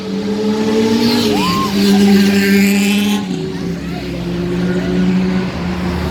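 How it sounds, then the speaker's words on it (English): Loud engine noise from fast motorbikes roaring past, with revving and a high whine rising and falling, continuous throughout. "they really like their motorbikes to be very noisy, and they go as fast as they can"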